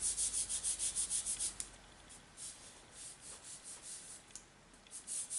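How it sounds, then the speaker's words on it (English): Paper glued down with adhesive sheet is pressed flat with soft, rapid rubbing strokes, a close, quiet rhythmic scuffing in bursts, pausing briefly midway before resuming. "Just give it a little soft rub so we don't move it too much."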